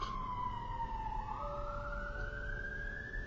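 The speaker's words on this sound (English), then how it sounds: "Sirens usually means round here that something's going on in a pub" A wailing emergency siren in London sweeps slowly down and then rises again, steady and moderately distant over a low background rumble.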